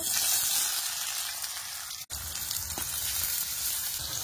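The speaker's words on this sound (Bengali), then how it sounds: "তেলের মধ্যে পেঁয়াজ কুচি দিয়ে দেব" Chopped onion sizzling in hot oil while meat is being cooked, a steady close hiss with a brief dropout midway and no voices.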